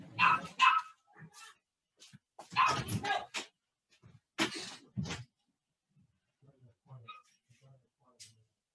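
A dog barks indoors in loud, close bursts, several sharp barks in quick clusters followed by softer yips and whimpers as it quiets down.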